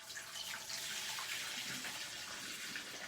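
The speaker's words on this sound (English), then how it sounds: "But we're just gonna pour this down the drain." Silicone hair product mix poured down a sink drain with running water, a steady, continuous rushing stream close by, with no talk over it.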